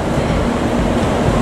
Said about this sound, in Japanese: さあいつものね5両編成トリプルヘッダーでの登場でございます。